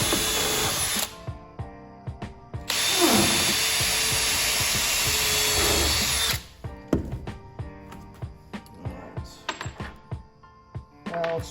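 A power drill with a 1/8 inch bit pre-drills screw holes in thick wood, two long loud whirring runs broken by short pauses, followed by lighter clatter and small tool knocks.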